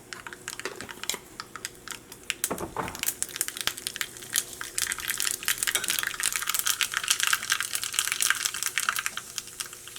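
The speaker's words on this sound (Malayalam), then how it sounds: "ഈ ചൂടായ വെളിച്ചെണ്ണയിലേക്ക് ഒരു 1/2 ടീസ്പൂൺ കടുക് ചേർക്കാം." Mustard seeds, half a teaspoon, crackle and splutter in hot coconut oil, a dense run of sharp, rapid pops that grows busier and louder toward the end, close up with no talking.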